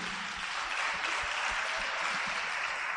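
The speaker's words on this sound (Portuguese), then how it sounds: "Quem pode aplaudir a Cristo?" A church congregation applauding during a sermon, a broad, steady wash of many hands clapping, moderately distant and sustained without pause.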